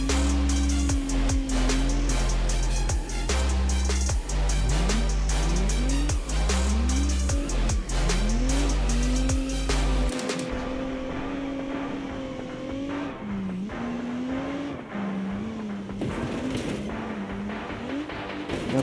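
A car crosses a test bridge with its tyres bursting, making loud repeated bangs and thumps with rising revs and tyre noise for about ten seconds, then a quieter rolling rumble as it carries on.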